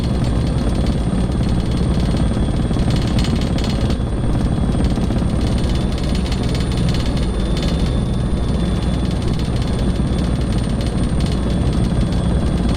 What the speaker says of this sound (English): Now hand flying the helicopter